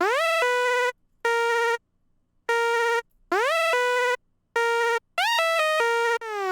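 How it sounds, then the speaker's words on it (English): An 8-bit lead synth plays a simple melody of bright, buzzy square-wave notes in short phrases separated by gaps, with quick upward pitch glides into some notes, loud and alone. "Then I have this 8-bit lead that sounds like this."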